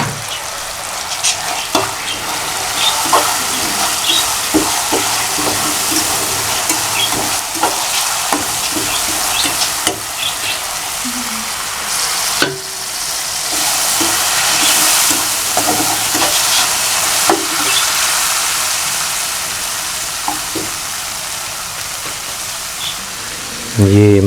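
Achar pickle masala frying in a pan for a dhaba-style egg curry, with a loud steady sizzle and crackle that has a rain-like hiss. Frequent scraping stirs run through it, and a voice can be heard faintly underneath.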